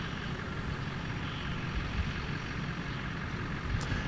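Diesel vehicle passing outside, a steady low rumble of engine and road noise holding at a constant distance, moderately loud with no voices.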